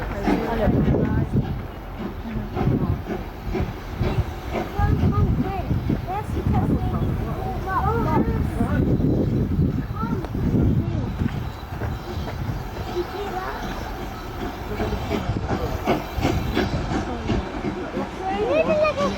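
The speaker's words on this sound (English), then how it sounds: "Harry Potter train." A train passes at Swanage Railway with a continuous rumbling roll and rhythmic rail clatter, fairly loud throughout, while people talk over it.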